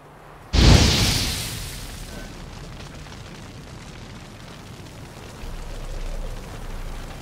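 A sudden loud whoosh and burst of fire from the Igni sign cast in The Witcher 3, flaring sharply then decaying into a long, fading roar of flames.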